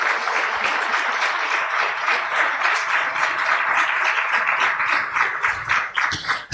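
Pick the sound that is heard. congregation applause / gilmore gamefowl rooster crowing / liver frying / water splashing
congregation applause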